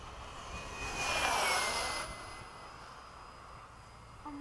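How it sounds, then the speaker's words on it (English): A HobbyKing 70mm SkySword RC electric ducted-fan jet passes overhead at a flying field, its whine swelling to a loud peak around a second and a half in and then fading as it moves away. "What is it like flying that jet?"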